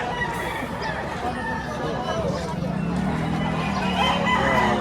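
Chickens and roosters at a poultry market in Batangas, with roosters crowing and hens clucking continuously amid a busy background of crowd chatter.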